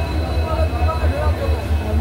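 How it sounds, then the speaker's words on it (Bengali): A WDP4 diesel locomotive passes nearby on an Indian rail line, a loud rhythmic low rumble with pulsing wheel beats and engine drone that holds steady throughout. "WDP4 যাচ্ছে"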